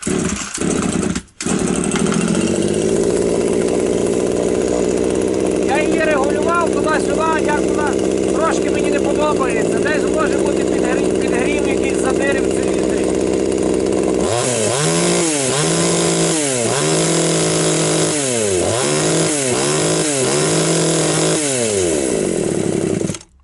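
A Vitals BKS 2511s petrol chainsaw with erratic running fires up and holds a loud, steady idle, then surges through a series of sharp, repeated revs close by.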